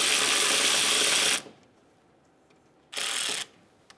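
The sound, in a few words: ratchet removing 10mm coolant reservoir bolt, Ford Focus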